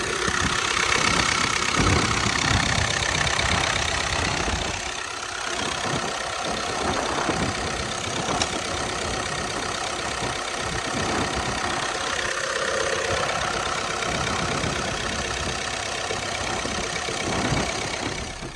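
A Volkswagen 1.6 diesel with automatic transmission idles steadily close by, its rough mid-range clatter rising slightly in a few mild revs, with no talk over it.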